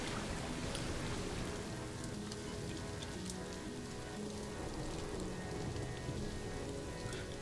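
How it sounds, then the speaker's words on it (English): Rain falls steadily in a Planet Zoo park: a dense, even patter of drops hitting surfaces, moderately quiet and unbroken for several seconds, with no speech over it. "It's a rainy day."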